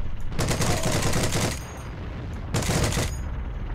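Garand rifle gunfire in the Heroes and Generals video game comes as two loud, dense bursts of shots separated by a brief lull, close and booming.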